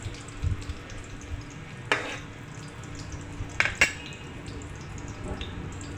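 Garlic and onions sautéing in a pan for Filipino kinamatisang pusit give a low, quiet sizzle, with a few sharp scrapes and clinks from stirring scattered through.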